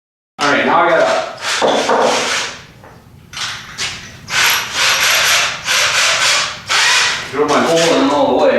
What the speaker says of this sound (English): drill my hole in all the way